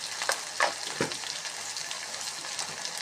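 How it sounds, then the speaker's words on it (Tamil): Mustard seeds and urad dal fry in hot oil for a tamarind peanut curry tempering, giving a steady close sizzle with a few sharp pops and splutters and no talking. "இப்போ கடுகு உளுந்து கொஞ்சம் போடுங்க."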